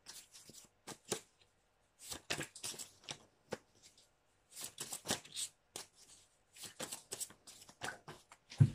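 Oracle cards being shuffled and drawn by hand, quiet close riffling and flicking in irregular bursts with short pauses between them.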